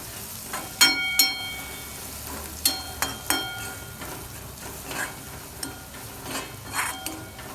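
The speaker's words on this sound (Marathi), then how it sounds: "मसाला मस्त पैकी असा परतलाय." Spice masala with coriander powder sautés in a pan for tomato chutney, with a soft steady sizzle and a series of light metallic scrapes and taps from stirring, irregular and close.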